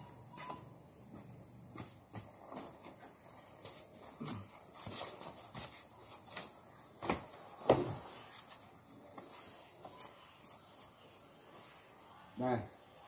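Large crickets at a cricket farm chirp in a steady, shrill continuous trill, with scattered clicks and a few soft thumps or footsteps close by.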